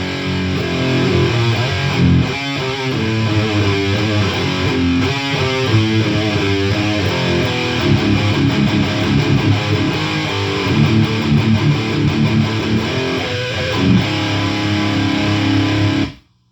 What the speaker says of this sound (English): It's a good rhythm, death metal tone.